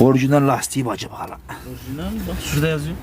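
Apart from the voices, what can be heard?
No everyday noise stands out behind the speech.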